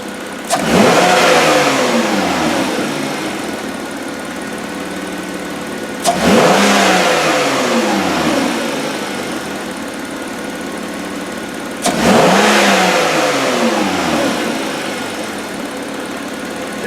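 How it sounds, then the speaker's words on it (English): A Hyundai Tucson engine with a drive-cycle fault is revved in three sharp throttle snaps, each a loud rising roar that falls back slowly toward idle, heard close and alone with no talking. "capture a couple throttle snaps here"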